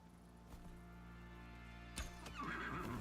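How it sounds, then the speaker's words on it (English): A horse in the survival game Icarus neighs and whinnies over a low game-ambience hum, with a few thuds and a short knock, fairly faint, no speech. "Yeah, there's a horse."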